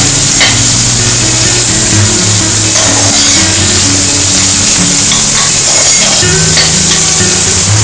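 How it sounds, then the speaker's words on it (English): Chopped onions frying in oil for ginger chicken, a dense, loud, continuous sizzle with a low hum from the stove beneath it and no talk. "We will fry the onions till they are light golden brown."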